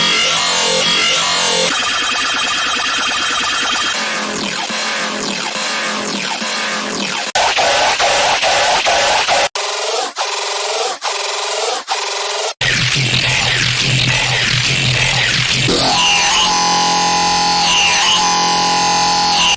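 Heavy deathstep growl bass sound design: harsh, rasping, modulated synth growls in shifting bursts, loud and dense with abrupt cuts between sections, no voices.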